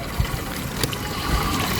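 Water trickling and splashing from a gallon container after a typhoon cut off the supply, a brief steady close flow with small splashes.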